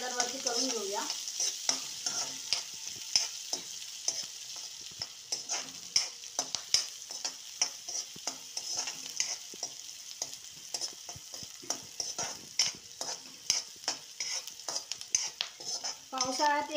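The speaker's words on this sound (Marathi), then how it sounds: "आपण असा हा कांदा छान गोल्डन ब्राऊन कलरवरती करून घेऊया." Onion fries in a pan until golden brown, a continuous sizzle punctuated by frequent close scrapes and clinks of a spoon stirring against the pan.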